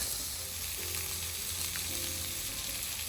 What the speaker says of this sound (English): Put my spuds on now. And we're cooking on gas.